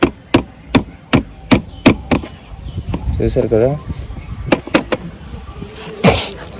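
Motorbike luggage boxes rattle and knock in a quick run of sharp hollow clacks, spaced near-evenly, pausing for a short burst of talk and then resuming, with someone speaking briefly near the end.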